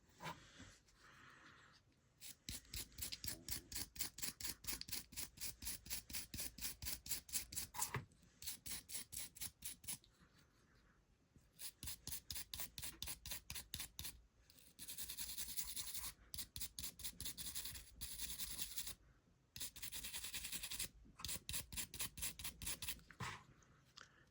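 A stainless steel brush scrubs the matte black painted head of a McFarlane Batman action figure in bursts of fast rhythmic strokes separated by brief pauses. The sound is quiet, close and scratchy.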